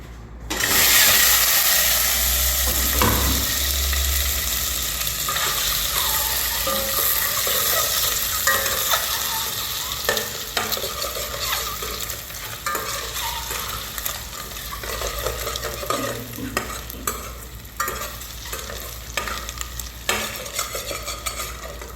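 Egg fries in a little oil with cumin, giving a loud, close, continuous sizzle that settles slightly over time, with intermittent scraping and tapping from stirring in the pan and no talking.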